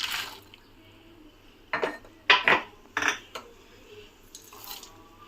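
Almonds and cashews drop into a pan and are stirred, producing a handful of bright metallic clatters and scrapes against the pan over faint background hiss, with quiet gaps between the strokes.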